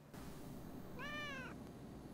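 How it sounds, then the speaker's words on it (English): A cat meows once in a short, clear, high call during a Chainsaw Man anime episode, heard over a steady background hum with no talking. "Aww, it's a cute kitty!"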